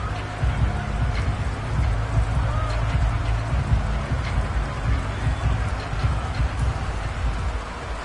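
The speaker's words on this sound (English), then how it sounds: "The rain set to continue as we are underway" Rain at a college football video game, a steady dense hiss of downpour with low rumbling crowd-like noise underneath, continuous and fairly loud.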